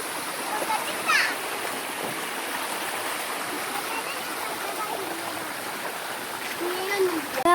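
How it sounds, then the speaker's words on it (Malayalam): A stream rushes past near a small waterfall, a steady broad outdoor roar of flowing and splashing water with faint voices now and then. "ഭയങ്കര വെള്ളം ഇവിടെ ഇങ്ങനെ പോകുന്നുണ്ട്"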